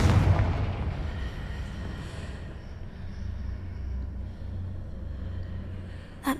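In the Hogwarts Legacy video game, a Confringo spell explosion opens with a heavy boom that decays into a low rumble with faint debris noise, ending with a short crack.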